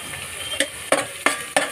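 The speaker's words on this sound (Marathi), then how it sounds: "अद्रक आणि लसूणचा उग्र वास जरा मोडेपर्यंत थोडं त्याला परतून घ्यायचं आहे" Ginger and garlic sauté with onions in a pan for egg fried rice, a low steady sizzle broken by four sharp stirring scrapes, close up and without talking.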